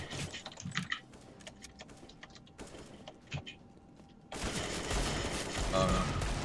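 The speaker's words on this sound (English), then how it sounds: "there's one shot with the Deagle" Gunfire in the shooter game CS:GO during a one-on-one match, with sharp scattered shots including a Desert Eagle pistol round, followed by a sustained louder roar of noise near the end, no voices.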